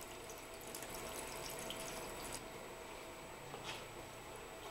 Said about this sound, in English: You will want to step back because you are going to get some water flow going there.